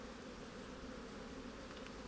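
Honeybees buzz around an open hive during an inspection, a faint continuous drone with no gaps over its short length.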